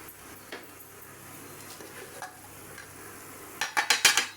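Low bubbling and faint sizzling from tamarind mixture for temple-style puliyodarai boiling in a pan, steady and quiet, ending with a few sharp clinks of a utensil against metal.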